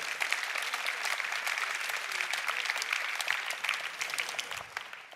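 Fairly distant audience applause fills a church service hall, a steady patter of many hands clapping that holds evenly throughout without voices on top.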